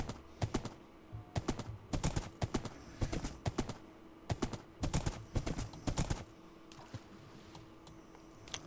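Horse hooves clip-clopping in Minecraft, a run of quick, sharp, evenly spaced taps in clustered bursts that stop near the end, close and clear with no talk.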